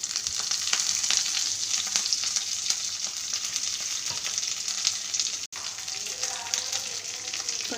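Green chili slit in two, chopped ginger and curry leaves sauté in a hot pan, a steady bright sizzle running throughout with occasional stirring scrapes and one brief break near the end.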